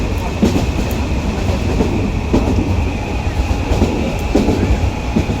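Steady rumble and rattling clatter of a passenger train heard from inside a carriage, continuous and fairly loud with faint rhythmic wheel clicks and no talking.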